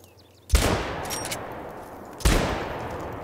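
Two loud, sharp gunshots in the video game theHunter: Call of the Wild ring out about two seconds apart, each followed by a lingering echoing tail over a low background rumble.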